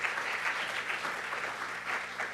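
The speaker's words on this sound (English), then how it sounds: "That deserves a tremendous round of applause" Sustained applause from a training-session audience, steady dense clapping throughout with no pauses, moderately loud and evenly spread.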